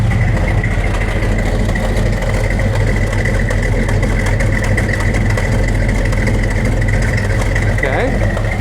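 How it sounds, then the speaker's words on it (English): A cold car engine idles steadily with a low, rumbling exhaust note, close and loud, the drone holding even throughout. "let's go get the exhaust note"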